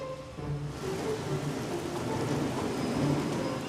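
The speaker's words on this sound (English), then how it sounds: "it will bring heavy rain and it will bring strong winds too" Heavy rain pours with strong wind in Glasgow, a dense steady roar of falling water that swells after a brief quieter start, with no voices.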